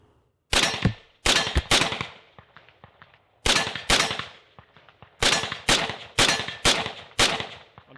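An AR-15 rifle with a PSA Freedom nitride upper fires eight loud, sharp shots outdoors, in an uneven series of singles and close pairs with ringing decay and short gaps between.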